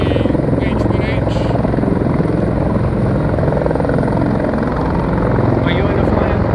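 Old Huey H1H helicopter flying close by, a loud continuous rotor chop and engine roar throughout, with voices talking underneath.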